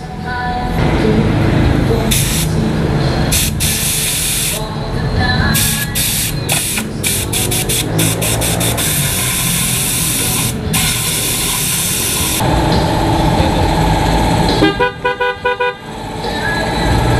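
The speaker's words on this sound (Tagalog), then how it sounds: "Blower." A loud, harsh rush of air from a blower drying a water-soaked PIAA car horn runs almost continuously, broken by sharp bursts and stutters, ending with a rapid pulsing sputter.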